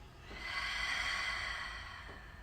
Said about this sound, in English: Taking a long body exhale.